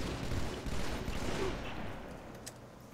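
Gunfire in a shooter game, a dense rapid burst of shots that fades toward the end, with a sharper crack near the close.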